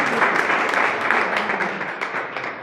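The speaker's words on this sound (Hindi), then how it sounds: "तो एक बार महिलाओं के लिए बहुत बहुत जोरदार ताली चाहूँगा।" An audience at a live Hindi-language gathering claps for the women present, a dense, steady burst of applause that fades slightly toward the end.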